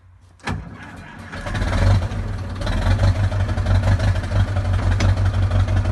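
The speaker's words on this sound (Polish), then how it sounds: "Odpalamy maszynę." An Ursus C-360 tractor engine cranks with a sharp start, then catches and settles into a loud, steady, throbbing idle that runs to the end.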